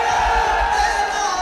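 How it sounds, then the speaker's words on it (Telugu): Crowd at a Shehbaz Sharif rally cheering, a loud sustained roar of many voices with a held tonal shout, cut off abruptly at the end. "గ్రౌండ్లో చప్పట్లు మోగాయి"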